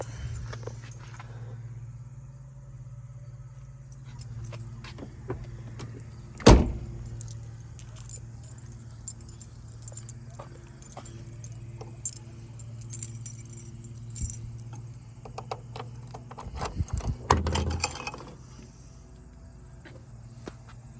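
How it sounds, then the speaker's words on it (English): Trunk of a 1967 Shelby GT350 being opened: keys jangle, then one sharp, loud latch clack, with smaller clicks and handling noises over a low steady hum. "Let's pop the trunk."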